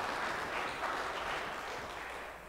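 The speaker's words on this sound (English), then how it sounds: "Give them a round of applause." A church congregation gives a round of applause for a couple during Sunday morning worship, a steady dense wash of many hands clapping at once with no voices over it.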